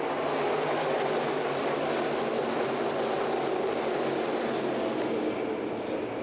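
Sprint cars at full throttle on a Volusia Speedway Park dirt track, a dense continuous engine roar holding steady and loud, with no talk heard.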